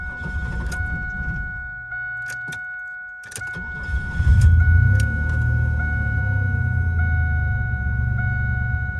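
A car with no airbag is started abruptly and keeps running, the low engine rumble swelling after a brief cutout and holding steady near the listener, with a faint high whine and occasional clicks above it.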